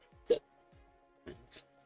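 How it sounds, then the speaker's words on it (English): Hiccups from a person at a computer playing a game: a sharp, abrupt hiccup, then two quicker, softer ones about a second later, close and clear over faint background sound. "Still had the hiccups."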